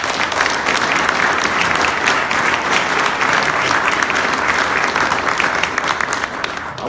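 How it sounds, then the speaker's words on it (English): An audience applauds elected officials at a Springfield fire commissioner ceremony: dense, sustained clapping from a large indoor crowd, loud and steady throughout, tapering slightly at the end. "we'd like to give you a round of applause"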